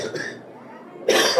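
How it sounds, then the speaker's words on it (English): Coughing from someone with a bad cold at a comic con panel, a burst of harsh coughs at the start, a quieter stretch, then a louder, close cough near the end, heard alone without talk. "I apologize for the coughing."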